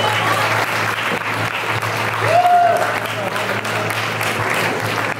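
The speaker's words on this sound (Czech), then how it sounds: "můžete přivítat samozřejmě potleskem" An audience at a bikini fitness competition in Čelákovice applauds continuously as competitors walk onto the stage, a dense sustained clapping with a brief whistle rising out of it midway.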